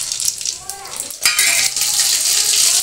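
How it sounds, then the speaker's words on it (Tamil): Mustard seeds dropped into hot oil, likely for goat blood poriyal, crackle and sizzle loudly and close, with a brief clatter of a pan or utensil before the frying swells and holds. "எண்ணெய் காஞ்ச உடனே கடுகு போட்டுடணும்."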